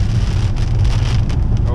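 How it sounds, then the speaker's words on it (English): Heavy rain pours down outdoors during a national park visit near Sydney, a dense, steady hiss of water that fills the scene loudly and continuously. "it just started pouring rain"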